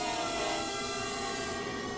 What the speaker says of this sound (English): Wait for the horns.